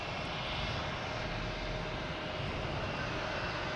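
An Airbus A220 airliner at Boston Logan Airport gives off a loud, steady jet-engine roar, a broad rushing drone that holds constant without voices.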